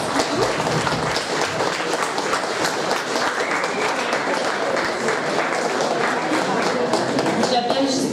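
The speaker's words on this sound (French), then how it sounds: "Donc, on peut les applaudir." Loud, dense audience applause fills a room at a student association election debate, a continuous wash of clapping hands that holds steady throughout, with a brief murmur of voices near the end.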